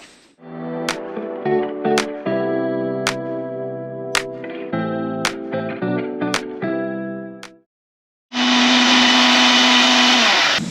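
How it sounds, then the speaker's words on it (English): Kitchen blender whizzing up breakfast smoothies inside an off-road caravan, a loud steady motor roar kicking in near the end after a stretch of music with sharp clicks. "Few smoothies for breakfast this morning."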